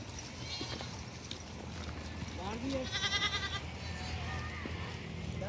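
Goats on a Pakistani farm bleat in short wavering calls, some fairly close, over a constant outdoor background rumble with people talking nearby.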